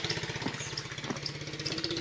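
An electric clipper buzzes steadily up close while trimming hair from a horse's ears, a rapid droning hum with faint rattling as it runs.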